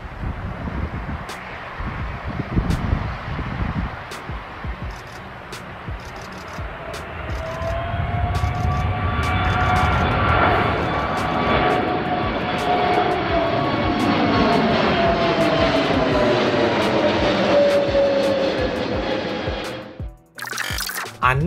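Fixed-wing airplane engine during a landing approach and go-around, rising from a steady hum to a loud, sustained roar with a sweeping pitch change, heavy wind noise throughout, then cutting off abruptly near the end.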